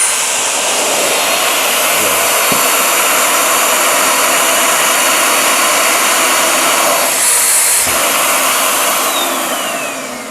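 A vacuum runs in a build lab, a loud, steady, high whooshing roar that holds for several seconds and then trails off slightly, with no voices.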